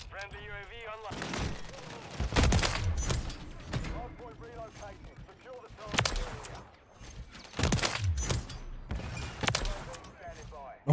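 Gunshots in Call of Duty Modern Warfare III crack out as a scattering of loud, separate blasts among game noise, under frequent excited talk from a player.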